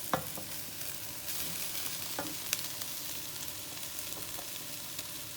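Browned beef mince being stirred in a big pot, with a steady soft sizzle under scattered scraping clicks of the utensil against the pot, close and with no talk.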